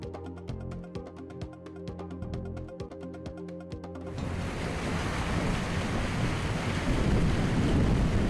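Background music with a plucked beat plays first, then gives way to a loud, continuous rush of sea waves and wind gusting across the microphone out on the water.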